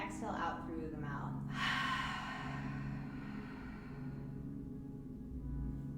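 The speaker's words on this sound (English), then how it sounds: "Take a deep inhale, exhale out through the mouth." A long, slow breath exhaled through the mouth during a yoga session for athletes, a soft airy rush after an intake of breath, close and gentle over a low background hum.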